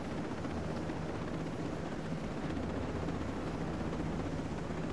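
Helicopter flying in the video game Ghost Recon Breakpoint, a steady dense rotor-and-engine drone filling the full five seconds at constant loudness with no talk over it.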